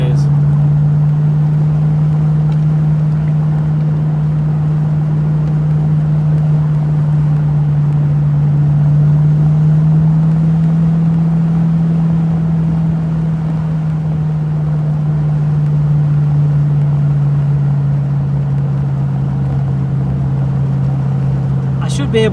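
A V8 car engine drones low and steady while cruising through Derbyshire's Peak District, a loud continuous hum whose pitch dips and rises slightly with speed, with no break throughout.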